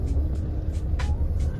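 A car idles near a busy pilgrimage site in Nagpur while being parked, a steady low engine rumble with a few soft hissing bursts over it, close and continuous.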